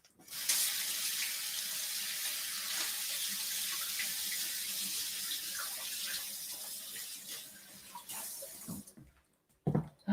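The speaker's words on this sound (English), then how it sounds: "Let me wash my hands." A kitchen tap runs steadily while hands are washed beneath it, a close splashing hiss lasting most of the stretch, then the flow stops with a few final splashes and clatters; nobody speaks.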